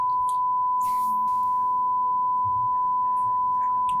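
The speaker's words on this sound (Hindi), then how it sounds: "बीप चला" A loud, continuous steady censor bleep holds through the whole stretch, masking speech beneath it, with faint voice fragments and small clicks showing around it.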